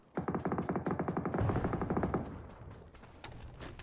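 Automatic gunfire in a ranked squad battle game, a fast steady burst of close shots lasting about two seconds, followed by quieter scattered reports.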